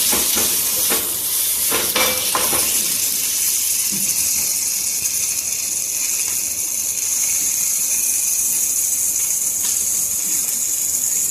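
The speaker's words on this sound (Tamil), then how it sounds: "இந்த ஓமவள்ளி கீரையை அதில் போடணும். கொஞ்சம் வதக்கிக்கணும்." Omavalli leaves sauté in hot oil in a pan, a loud steady hiss and sizzle that carries on throughout, with a few brief stirring knocks early on.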